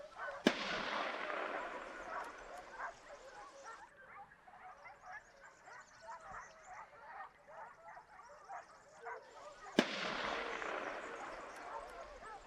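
Two sharp gunshots ring out about nine seconds apart during a wild boar hunt in Alentejo, Portugal, striking a running boar, with hunting dogs barking excitedly in the distance between them.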